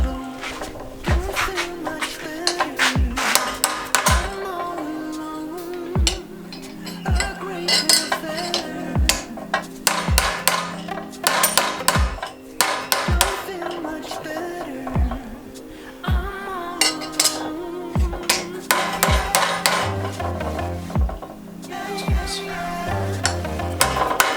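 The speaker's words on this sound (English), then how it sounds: "I've got a little jewelry anvil. I'm going to go and I'm just going to make that flat again with this bend here at the center." A bent metal light-bar mount for a boat is hammered flat on a small jewelry anvil: sharp metallic clanks ring out in a steady, repeated rhythm over a continuous metallic background, close and fairly loud.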